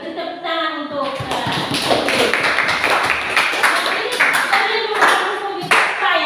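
A classroom group clapping hands together during a lesson on legal protection, a short burst of loud, close, uneven claps with a voice talking at the start.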